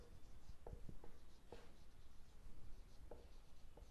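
Pen writing on paper during a tenth-grade geometry lesson, heard as a run of soft scratchy strokes and taps, fairly close and steady, with no one speaking.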